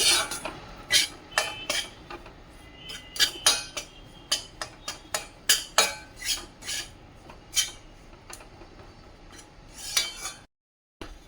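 A metal utensil repeatedly scrapes and clinks against a pan while wheat flour is dry-roasted, giving irregular sharp strokes at a steady working pace and ending in a brief silence.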